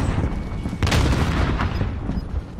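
A frag grenade going off in Warzone on Rebirth Island, a loud, close boom that swells and rolls out for a couple of seconds amid dense in-game noise.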